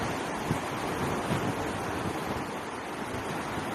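Ocean surf washes and rumbles continuously beneath gusty wind buffeting the microphone, with no voices present.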